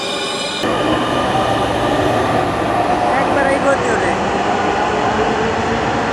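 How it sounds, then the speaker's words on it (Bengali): A Dhaka metro rail train passes at close range, a loud, steady rumble with squealing wheels that fills the whole stretch while a voice talks nearby. "চলে গেল উত্তরের মেট্রো রেল"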